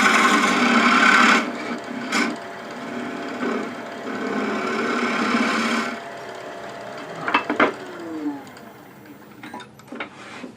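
A metal lathe cuts a thread in a workshop, a steady whirring, rasping machine noise for several seconds that then drops to a quieter run with scattered clicks and scrapes, close and alone.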